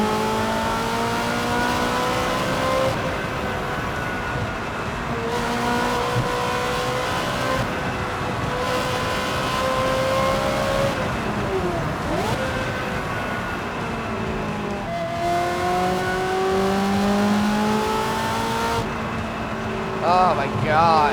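Ferrari 360, an open-top Italian sports car with a gated manual gearbox, driven on open roads in Utah, its engine revving steadily with repeated gear changes and rising and falling pitch, accompanied by wind noise and occasional talk.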